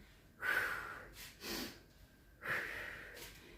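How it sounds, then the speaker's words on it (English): Pilates breathing, a few slow breaths out and in taken close by: soft airy exhales and inhales rising and falling in a calm rhythm with brief pauses between them. "So breathe out and in, out and in."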